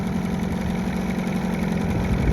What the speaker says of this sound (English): The Johnson started up very easy.